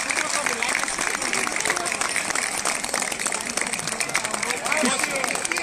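Guests at a Greek wedding celebration break into dense, sustained applause for the groom, a steady roar of clapping hands mixed with shouting voices and cheers from a crowd indoors.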